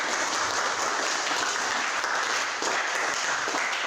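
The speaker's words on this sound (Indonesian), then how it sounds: "Kita kasih aplaus atau kasih semangat." A class of students at an Indonesian school physical education lesson applauds, a steady, dense clapping that fills the room evenly without pause.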